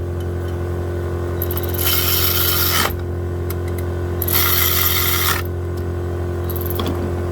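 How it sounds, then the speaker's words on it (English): On a 2008 Ford Focus, an air ratchet snugs the water pump bolts in two buzzing rattling bursts of about a second each, with a softer third start, over a constant low shop hum. "you can tighten up with the air ratchet again"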